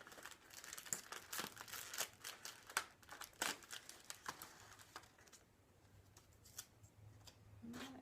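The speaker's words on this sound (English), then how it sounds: "So I take my double-sided tape. I'm going to attach it to the ear." Double-sided tape is handled and pressed into place, producing faint, close crinkles and small peeling snaps in a soft flurry that tapers off into near quiet.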